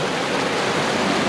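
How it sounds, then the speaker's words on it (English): Steady, dense roar of water pouring down at the base of Multnomah Falls in Oregon, a continuous broadband rush that stays loud and unbroken throughout. "I made it to the base of the waterfall here"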